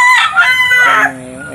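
A rooster crows once, loud and close, a harsh drawn-out call that trails off into a lower ending.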